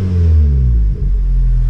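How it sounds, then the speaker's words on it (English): Suzuki ZC32S engine idling steadily after its cracked rubber intake pipe was replaced, a close, loud, even low rumble with a brief dip near the midpoint. "I can't remember what this car sounded like when it idles normally"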